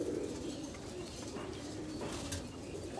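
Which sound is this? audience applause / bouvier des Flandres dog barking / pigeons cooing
pigeons cooing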